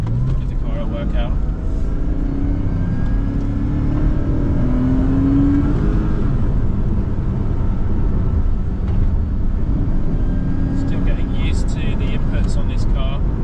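A Porsche Boxster 986 engine hums steadily while driving on country lanes in West Sussex, a low continuous drone with road noise, joined late by brief higher-pitched sounds.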